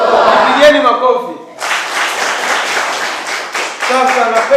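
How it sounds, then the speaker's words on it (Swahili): A room of listeners bursts into sustained group clapping during a lesson, after a brief stretch of voices, with the applause steady and fairly close for several seconds. "Pigeni makofi."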